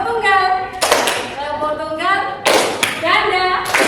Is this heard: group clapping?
yes